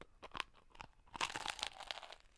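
Cheesy garlic bread crunches between the teeth in a few sharp, crisp bites followed by close, quieter chewing, with no talking.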